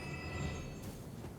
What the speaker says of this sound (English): like ringing of the bell the entire time